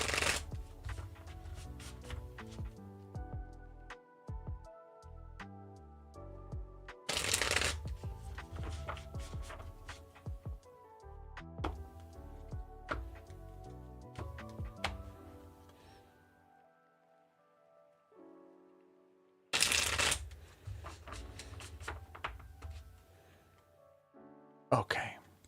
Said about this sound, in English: I will draw us 2 cards